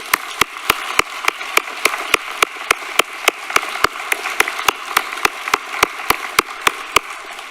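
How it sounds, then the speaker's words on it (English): At a university academic awards ceremony, applause for faculty comes across as sharp, evenly spaced claps standing out from a steady room background, moderately loud and close, with no voices. "so can we give them all a round of applause?"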